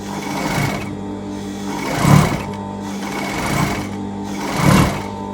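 A sewing machine runs steadily through a sew-along stitching session, its motor whirring close and loud with a regular mechanical clatter that swells in two stronger pulses.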